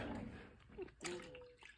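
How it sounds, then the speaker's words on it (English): Water poured out of a jar indoors, a short trickling and splashing pour broken into a few bursts, fairly quiet and close. "So what can I do with this water? Let's just pour it out"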